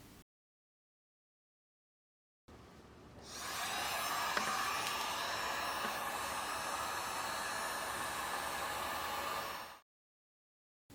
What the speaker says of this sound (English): But first, I'm going to heat it up with a heat gun so it's nice and sticky.